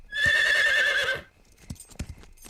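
A cartoon horse lets out a loud, clear neigh lasting about a second, followed by a few quiet, scattered hoof clip-clops.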